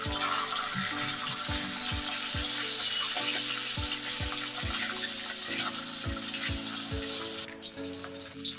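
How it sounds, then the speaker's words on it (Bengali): Katla fish frying in hot oil for a Bengali fish curry, a steady close sizzle and hiss that runs throughout, with a regular series of soft low knocks beneath it. "দ্বিতীয় ব্যাচেরও মাছ ভাজা হয়ে গেছে"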